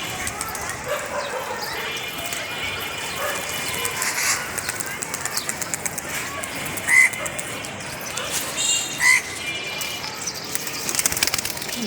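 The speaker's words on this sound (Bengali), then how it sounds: "কবুতরগুলো অনেক সুন্দর উঠতে আছে" Pigeons in a loft coo and shuffle about, with scattered bird chirps and brief wing flutters over a busy, steady background and a voice faintly present.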